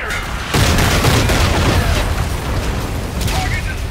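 In Call of Duty: Infinite Warfare, a marked target is destroyed with a sudden loud blast followed by a dense, roaring wash of debris and rumble that fills the rest of the moment, with a voice faintly underneath.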